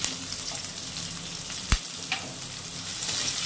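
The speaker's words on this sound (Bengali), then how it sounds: "এবারে দিয়ে দেবো রসুন কুচানো, আর দেবো একটা পেঁয়াজ।" Chopped garlic and onion frying in a pan for a Bengali fish curry, with a steady continuous sizzle throughout, a brief sharp crackle partway through, and no voices.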